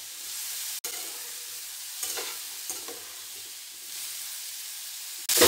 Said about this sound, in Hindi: इसे चलाएंगे, बीच बीच में हमें इसे चलाते रहना है।